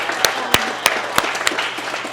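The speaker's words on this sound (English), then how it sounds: "Round of applause to these guys." A small group claps for graduating members of a youth mentorship program, a short burst of scattered, close hand claps with a few sharp, distinct strikes over a soft background murmur.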